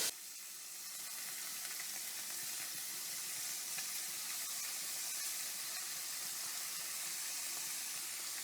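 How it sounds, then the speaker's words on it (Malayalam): Cleaned dried Manthal fish fry in hot oil in a pan, giving a steady, even sizzle that stays at the same faint level throughout, with no voices. "ചൂടായി വരുമ്പോൾ നമ്മൾ ഈ മാന്തളുണ്ടല്ലോ വൃത്തിയാക്കിയ മാന്തൾ ഇതിലേക്ക് ഇടും"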